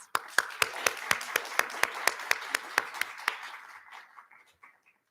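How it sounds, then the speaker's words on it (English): Applause at a human rights side event during a religious freedom summit, a small group clapping in a sparse, evenly spaced rhythm of sharp individual claps that slows and fades away toward the end. "So I think you all deserve a big round of applause for each other and for yourselves."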